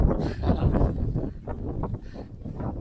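Strong wind sweeps over an exposed hilltop on the Villoonni Hills trekking trail. The gusts are heard as a loud, buffeting rumble against the microphone, rising and falling without a break.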